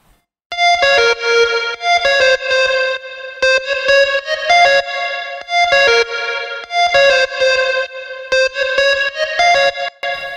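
A bright, buzzy synth tone from Ableton Live's Operator instrument plays a short repeating melodic phrase in choppy bursts, its pure sine wave thickened by warm saturation distortion, loud and alone.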